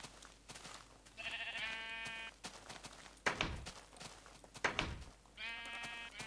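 Sheep bleating in a farm video game, two drawn-out harmonic bleats at the start and end, with sharp thumps and shuffling footstep-like hits between them, no talk.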